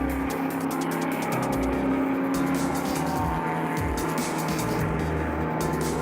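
Race cars, among them a Lola T70 and a Ford GT40, run at Kyalami circuit in archive footage, with engines droning and rising as they pass along the long straights, heard steady and slightly hissy throughout.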